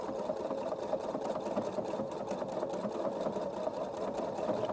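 A sewing machine runs steadily at close range, stitching fabric in a curve along a circle ruler with a fast, even mechanical whir, with no talk.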